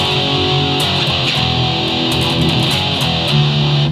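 Electric guitar run through a preset on a Boss ME effects processor, a dense, heavily distorted tone played continuously with a bright buzzing edge, loud and without talk.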